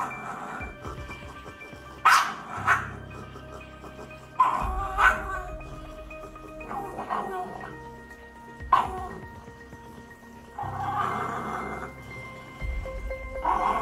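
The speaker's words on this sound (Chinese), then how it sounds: "你会睇到呢只柴犬 Yuma 真系好嬲，佢好想咬我只左手同埋右手" An angry Shiba Inu barks and snaps in sharp, close bursts, several loud yaps and growling outbursts separated by short pauses, with some whimpering between.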